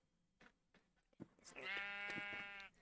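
A sheep in the video game Minecraft gives one clear, sustained bleat after a few soft clicks, close and alone.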